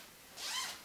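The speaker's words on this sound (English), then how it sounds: "If I unzip one, the good thing about these is that they're rectangular" Zipper on a rectangular children's sleeping bag pulled open in one short, close, rising rasp lasting under half a second.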